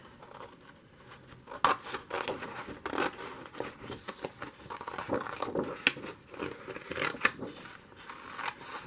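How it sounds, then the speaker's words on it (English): Scissors snip through a paper Easter greeting card in a quiet room, a series of close, crisp rasping cuts in short bursts with brief pauses. "I'm gonna cut off where it says Easter greeting, as much as I could."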